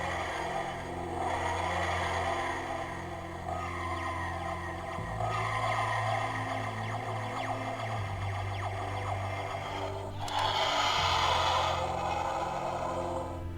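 A Twelfth Doctor Flight Control TARDIS toy plays its fast takeoff effect, the Runaway Bride version: a loud, continuous electronic wheezing and grinding tone with a low pulsing hum that shifts pitch several times and swells near the end, heard alone.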